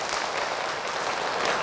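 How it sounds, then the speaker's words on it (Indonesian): An audience claps for a participant named Abi at an Islamic talk on inheritance, a steady, moderately loud burst of mixed hand claps with no talking over it. "sekali lagi tepuk tangan untuk Abi"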